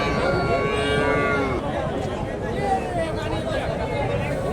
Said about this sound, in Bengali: এই যে বাচ্চাটা দর্শক আর এটা গাভী